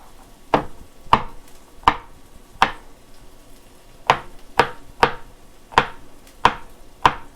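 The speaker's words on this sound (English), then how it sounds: "I'm going to go ahead and mince these up real quick." A knife minces garlic cloves on a cutting board in a home kitchen. About eleven sharp, close chops fall in a quick, slightly uneven rhythm with no talking.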